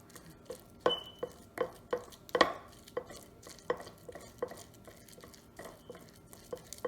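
Cooked goat brain being mashed with a utensil in a pot, a steady series of sharp taps and scrapes against the metal at a regular rhythm, close up and without speech.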